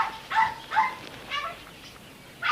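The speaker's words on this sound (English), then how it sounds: "It's a dog" A dog gives a few short high yips and whimpers in quick bursts, fairly close and moderately loud, with brief quiet gaps between them.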